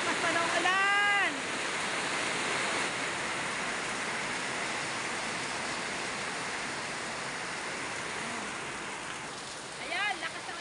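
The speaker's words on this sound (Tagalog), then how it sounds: "Ayan, lakas ng ulan." Heavy rain pours down outdoors in a steady, dense roar that never lets up. A voice cuts in briefly at the start and again near the end.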